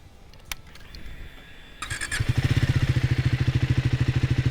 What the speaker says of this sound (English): So that's how it sounds at idle.